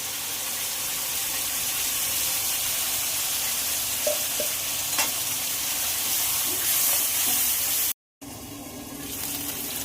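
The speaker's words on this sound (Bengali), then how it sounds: "এবার ওই মশলাটা দেবো, আদা, জিরে আর শুকনো লঙ্কা বাটা।" Steady loud sizzling of potatoes frying with a ginger, cumin and dried chilli paste in a pan, with occasional soft scrapes and clinks of stirring, briefly cut off near the end.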